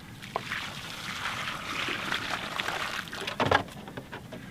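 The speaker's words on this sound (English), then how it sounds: "There's going to be some water spitting out of the top there." Water spits and trickles from the top of a newly installed pump, a steady wet splashing hiss with a few louder gurgling bursts near the end and no talk.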